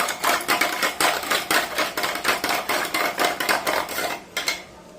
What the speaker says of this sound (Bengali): ভালো করে এইভাবে ফেটিয়ে নেব